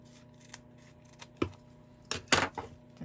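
Scissors snipping foam dimensional adhesive pads in half at close range, a few short crisp cuts with quiet gaps between them, with no talking.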